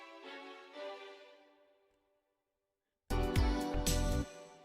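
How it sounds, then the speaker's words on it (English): Simple string fills in a city pop remix: a short sustained string phrase fades out into silence, then a louder passage comes in with bass and percussion beneath the strings. "I'm just adding some like some simple string fills"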